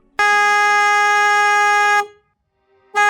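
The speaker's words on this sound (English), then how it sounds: "A deafening, soul-shattering air horn blasts through the twilight air." A deafening air horn blasts in one sustained, steady tone for about two seconds, then cuts off abruptly; after a short silence a second blast begins.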